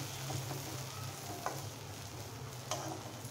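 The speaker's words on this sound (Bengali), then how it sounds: "এখন এগুলো আমি সুন্দর করে ভেজে নেব, সুন্দর একটা ফ্লেভার না আসা পর্যন্ত।" Bay leaf, cinnamon, cloves and cardamom frying in mustard oil, a steady quiet sizzle with a couple of soft spatula scrapes, close and alone without talk.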